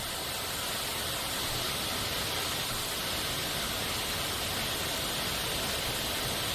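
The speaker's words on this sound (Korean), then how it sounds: "이게 폭포인데?" A nameless waterfall in the video game The Long Dark gives off a steady, full rushing roar that holds at an even level throughout, with no voices over it.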